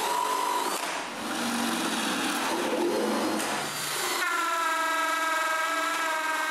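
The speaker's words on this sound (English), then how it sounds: "I drill a bunch of holes for the power cord." Power drill boring holes for a power cord in an X-Carve shelf, a loud continuous whine that shifts pitch between bursts and settles into a higher steady tone near the end.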